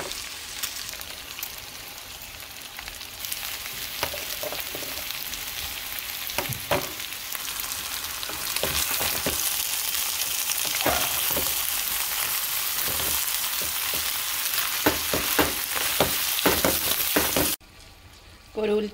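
Tomato and chiles fry with steak in a pan for bistec a la mexicana, giving a steady close sizzle with occasional stirring clicks, then dropping off near the end.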